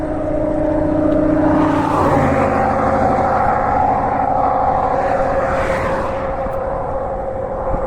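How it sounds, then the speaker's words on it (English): A loud truck roars past close by on a Texas roadside, its engine tone rising and then dropping as it sweeps by, with a steady rumble lingering afterwards. No one speaks. "There's a loud truck."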